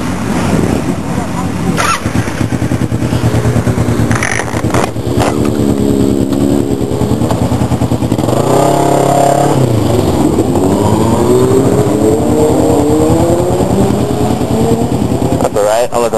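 A group of motorbikes and a 500cc scooter rev hard and pull away, loud and close, with rising and falling engine pitch sweeping over a continuous roar as they ride off.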